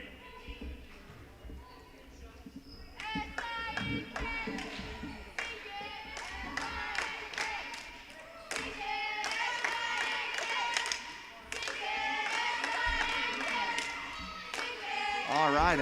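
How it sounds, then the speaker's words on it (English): Girls' cheerleading chant at a junior high basketball game, rhythmic shouted syllables over crowd noise, clapping and squeaking shoes, with a commentator talking over it. "It's S-I-N-K, sink it. And so the girls calling out to hope that Ledesma drops a couple here for the Cardinals"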